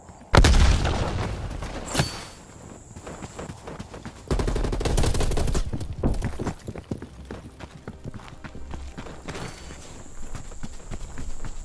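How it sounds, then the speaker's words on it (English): Frag grenade explosion in Call of Duty Cold War, a loud sharp blast near the start followed by bursts of gunfire and rumbling battle noise continuing throughout. "Sending frag grenade."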